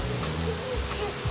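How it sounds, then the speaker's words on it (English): Heavy rain pouring outside, a dense steady hiss of drops on surfaces heard close and loud, with faint voices underneath. "Look, it is pouring outside."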